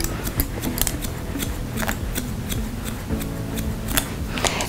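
Straight scissors cutting hair in a salon, a quick run of crisp snips in an uneven rhythm, close and clear.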